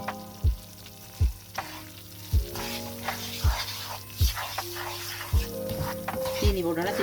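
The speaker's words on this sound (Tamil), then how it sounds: "இந்த ஜீரில் சீனியை போட்டு கிண்டுவோம்" Sugar being stirred into a pan of bell pepper halwa, a spoon scraping and knocking against the pan in repeated strokes at a steady rhythm over a soft sizzle, close and fairly loud.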